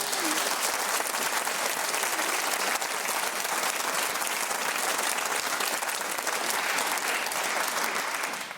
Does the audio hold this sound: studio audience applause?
yes